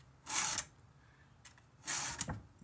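A chainsaw chain is hand-filed to take off a burr. Two short, quiet rasping strokes come about a second and a half apart, with faint ticks between them in an otherwise still room.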